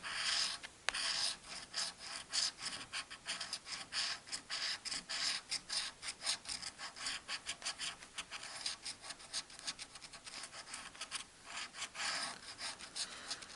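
A French FDJ Paris 2024 Olympics scratch ticket being scratched, steady raspy rubbing strokes repeating quickly and close up for the whole stretch, with no talking.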